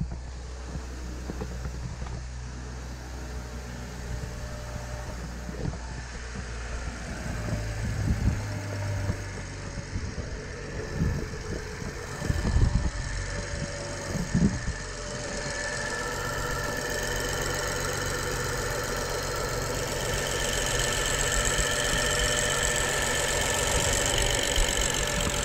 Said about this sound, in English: Direct injectors are very loud, so this is a pretty standard noise they're making right now.